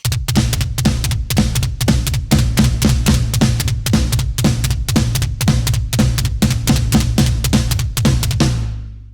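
A full drum kit plays a steady rock beat from a song at tempo, with tight repeated snare and cymbal hits over a driving low kick, loud and close, ending abruptly.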